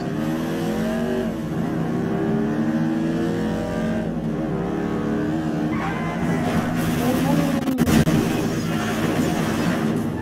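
A sports car engine in a video game revs and holds a steady drone with rising and falling pitch, while people talk over it throughout.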